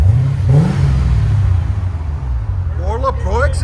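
A 1989 C4 Chevrolet Corvette with a 5.7L V8, high-flow cats and Borla ProXS exhaust rumbles steadily at close range with a brief rev swell, while people talk over it.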